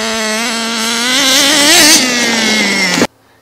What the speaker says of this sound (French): Passez ce délai, accélérez à fond avec la gâchette de l'émetteur.